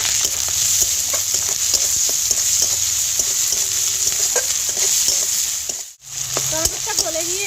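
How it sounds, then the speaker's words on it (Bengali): Chopped small tomato with a little salt frying in a pan, a loud continuous sizzle with repeated stirring scrapes and clicks, broken by a brief pause near the end. "এবার একটা ছোট সাইজের টমেটো কুচি করে নিয়েছি, সেটা দিয়ে দেব।"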